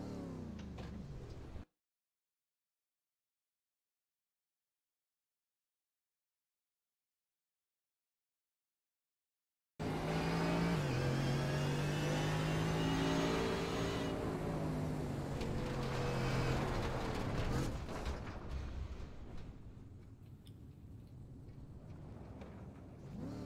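Mercedes AMG GT3 race car engine in iRacing, revving hard while throttled on gravel, loud and sustained with rising and falling tones after a long silent gap, then fading somewhat toward the end.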